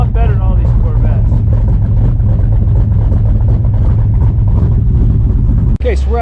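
A loud Shelby Daytona engine idles at a tech check-in for the Nevada Open Road Challenge, giving a deep, steady, throbbing rumble close to the microphone, with a voice talking over it and a brief dip near the end.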